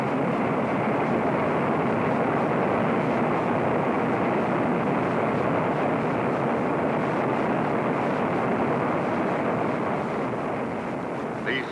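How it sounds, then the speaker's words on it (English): A continuous, heavy roar from the F-107A's jet engine running at full power with afterburner during a ground test, loud and sustained without break. "Finally, the most critical test of the engine itself, full power afterburner operation."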